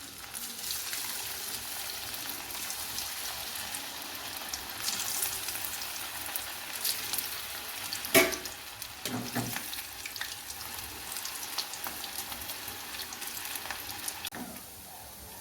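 Cauliflower chilli pieces fry in hot oil in a kadai, giving a steady close sizzle with a sharp crackle partway through and a few clinks, no speech.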